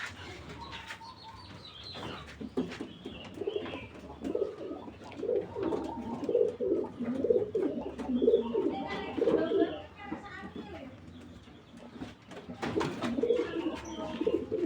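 Breeding pigeons coo in a coop, repeated soft rolling coos with brief chirps and a flutter of wings, fairly close and moderately quiet, without anyone talking.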